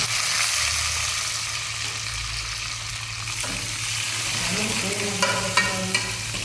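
Onions go into a pan for egg curry and fry with a steady crackling sizzle, joined partway through by scraping stir strokes and a few sharp clicks of a utensil against the pan.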